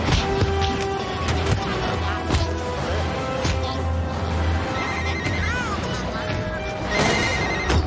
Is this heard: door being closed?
no